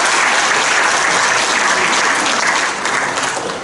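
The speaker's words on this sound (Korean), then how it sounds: "박수 한번 해봅시다" A hall audience gives a quiz winner a full, loud round of applause, dense clapping that holds steady throughout and tapers only slightly at the very end.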